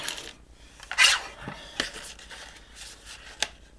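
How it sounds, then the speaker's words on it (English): A paper cutter slices an 8x8 card into sections, making sharp scraping and clicking cuts, one louder swipe and a few lighter snaps against quiet background handling noise. "So out comes the cutter."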